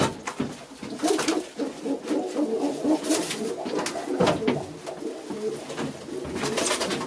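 Pigeons cooing in a loft during vaccination, several birds giving low rolling coos that overlap continuously, close by and moderately loud, with occasional wing flutters and rustles.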